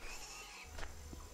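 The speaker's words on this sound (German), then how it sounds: "Wo ist denn das Pferd? Hallo Pferdchen." A short horse whinny from the farming video game Farmer's Life, faint and brief, with a few soft hoof-like thuds around it.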